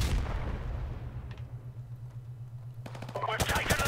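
Gunfire in a Call of Duty Modern Warfare Remastered team deathmatch, with a dense, noisy roar of shots and blasts early on, a quieter stretch, then a sharp rapid burst of fire near the end.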